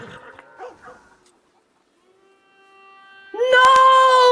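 A dog in Red Dead Redemption 2 lets out a loud, high whine at the very end, preceded by brief quiet yelps and a faint tone.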